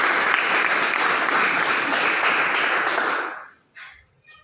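Company-event audience giving loud, dense applause that fills the room steadily, then stops abruptly near the end, leaving a couple of faint sounds.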